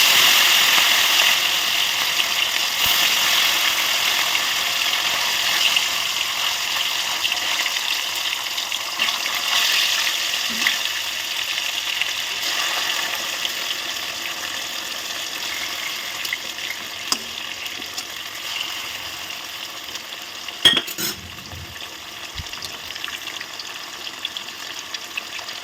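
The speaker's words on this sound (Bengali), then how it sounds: "তেলটা গরম হয়ে গেছে, এবার মাছগুলোকে দিয়ে দেব।" Catla fish pieces frying in hot oil in a home kitchen, giving off a steady, loud sizzling hiss with faint clinks and a brief clatter near the end.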